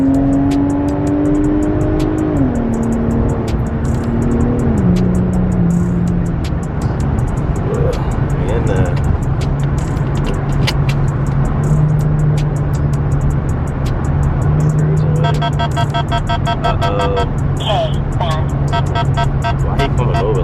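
An Infiniti Q50 SRT in sport mode, heard from inside as the engine drones loudly and its pitch climbs and steps through gear changes under acceleration, with someone talking over the engine.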